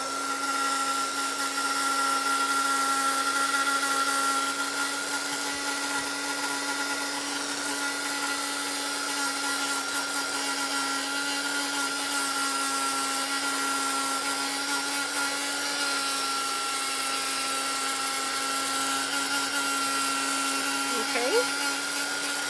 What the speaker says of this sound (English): I will just quickly dry them with the heat tool